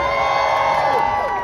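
A huge comic con panel crowd at LA Comic Con cheers and shouts in a dense, loud, continuous roar of many voices, with whoops rising above the din.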